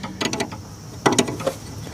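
Wrench snugging a brake line fitting on a Ford Edge brake booster: a few brief metallic clicks and ratcheting ticks in two short bursts, close and fairly quiet, with no talking.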